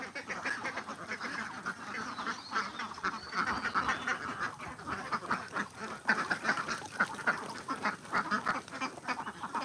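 A flock of farm ducks quacks continuously and densely after being let out of their shed on a rain-dampened morning, many overlapping calls at moderate distance with no talk.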